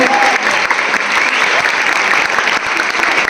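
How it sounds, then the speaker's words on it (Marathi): Loud, dense audience applause at a lavani show, many hands clapping continuously and close, with no pause. "जोरदार टाळ्या झाल्या पाहिजे."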